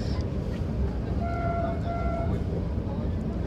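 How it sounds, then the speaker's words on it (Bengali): A Vande Bharat Express, the 22301 Howrah to New Jalpaiguri service, crosses the Farakka bridge with a steady, loud rolling rumble, and a two-tone horn sounds briefly in the middle. "তো আমরা এখন ফারাক্কা ব্রিজ ক্রস করছি।"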